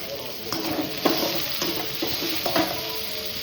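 Onions sautéing with mustard seeds, cinnamon, cloves and fennel in a hot pan, a continuous close sizzle with a few soft stirring scrapes spaced through it.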